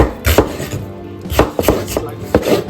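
A knife slices onions on a cutting board in a kitchen, giving sharp, loud chopping knocks in uneven clusters of two or three strokes with short pauses between.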